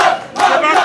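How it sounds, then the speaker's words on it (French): A crowd of protesters blocked by a security cordon shouts in loud, overlapping surges of voices, close and unbroken for just under a second. "La foule insiste."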